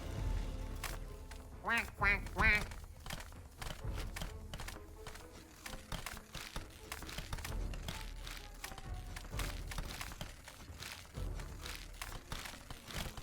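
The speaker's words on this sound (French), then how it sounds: "L'infâme canard apparaît." A cartoonish duck quacks in a burst of rapid calls amid the clicks, taps and thumps of Split Fiction gameplay, with low rumbling game sound and brief talk underneath.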